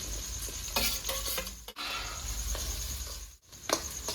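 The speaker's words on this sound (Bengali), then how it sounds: "তো বন্ধুরা পেঁয়াজটা আমার হালকা ভাজা হয়ে গেছে, পুরো ভাজবো না।" Onion frying in hot oil with whole cumin seeds gives a constant soft sizzle, broken by several sharp clinks and scrapes of stirring in the pan, with no speech.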